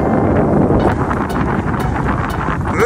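Strong wind sweeps a mountain ridge near Mount Fuji, close to Mount Kurodake. It roars and buffets the microphone in a loud, continuous low rush with small gusts and no voices.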